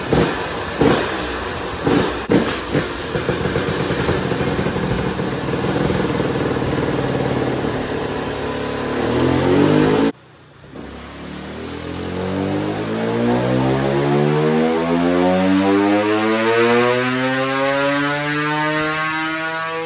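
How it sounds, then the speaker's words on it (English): A fuel-injected KTM 300 SX two-stroke dirt bike engine runs on a dyno, first holding a loud steady high-rev drone, then cutting out briefly before rising again in a long, sweeping climb through the revs. "Let's see what kind of power this fuel-injected 300 two-stroke makes on the HP Race Development Dyno."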